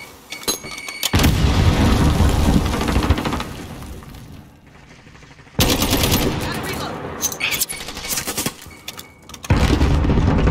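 Grenade blasts in Call of Duty gameplay: three loud, heavy booming bursts with rumbling low end, separated by brief quieter gaps, close and forceful.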